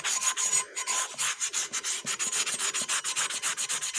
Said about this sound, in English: And then I sand the bottom just enough again to scuff it